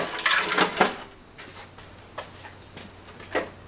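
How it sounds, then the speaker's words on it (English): A metal plate is taken out of a street light fixture, giving a few close clanks and rattles of sheet metal up front, then sparse light taps and knocks. "Take out the metal plate."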